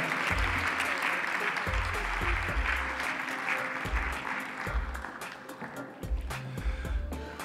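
Audience clapping steadily at a Moors and Christians festival poster presentation as a man is called to the stage, dense applause with low rumbling hum underneath, fading slightly near the end.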